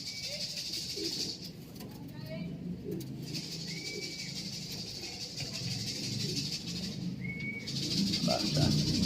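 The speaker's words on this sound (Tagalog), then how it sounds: "Ibon ni pare ay pumasok." A bird that has come indoors gives soft, scattered coos and short chirps over a steady background hiss, with faint talk nearby.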